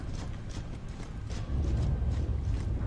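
Hobby horse clip-clop in the Gears of War 2 video game campaign, a steady run of hollow hoof-like knocks with a mechanical rumble underneath, continuous and fairly close throughout.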